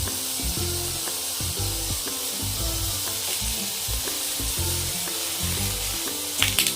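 Sardines fry in a pan of hot oil with a steady, close sizzle, punctuated by rhythmic scraping and stirring knocks as the fish are moved around.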